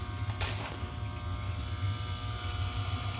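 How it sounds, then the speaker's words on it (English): Boiler circulator pump moving water while the burners fire, a steady low hum with a continuous watery rush, constant and close. "Circulator pump is moving water"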